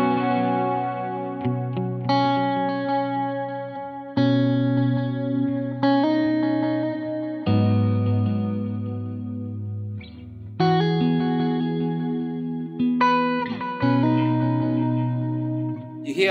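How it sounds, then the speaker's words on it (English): Clean electric guitar through a Helix / HX Stomp Ventoux amp model plays sustained chords and picked notes with a stereo delay bouncing left and right, repeating each attack, ringing spaciously across roughly sixteen seconds. "You hear how the delays is bouncing on the left and the right"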